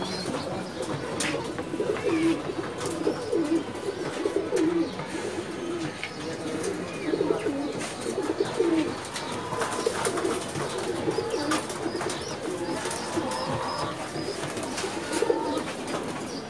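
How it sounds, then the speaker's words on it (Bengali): Lal Patti breed pigeons coo inside a loft, soft repeated throaty calls from several birds rising and falling at moderate distance over a steady background hum. "লাল পাত্তি কবুতর"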